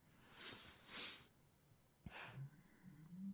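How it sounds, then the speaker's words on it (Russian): A dog snores downstairs, slow heavy breaths drawn in and out at a distance, three soft rasping snorts separated by quiet pauses. "Это у меня Зена храпит внизу"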